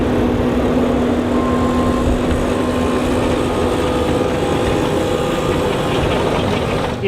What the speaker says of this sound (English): Look at that blower just kick it out.